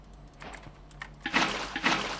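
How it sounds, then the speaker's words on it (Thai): Water poured from a bucket in the Minecraft video game splashes in two short bursts of sloshing, bubbling liquid, fairly soft and close, with no talking over it. "สมมติคุณเทน้ำแบบนี้นะครับ"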